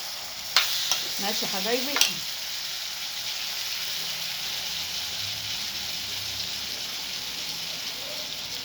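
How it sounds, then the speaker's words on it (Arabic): Rice being stirred in a pot with onions fried in their oil, a few scraping stir strokes early on, then a steady soft sizzle, while someone speaks briefly at the start. "هتقلبي بقى الرز كده مع البصله مع الزيت بتاع البصل اهو"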